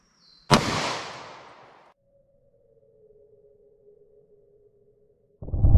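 A .40 S&W Gold Dot round is fired into a ballistic test medium: one sharp, loud report with a decaying tail, then a faint ringing tone, and another loud burst at the very end.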